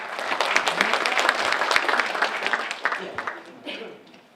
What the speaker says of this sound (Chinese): 让我们以热烈掌声欢迎我们的秘书长。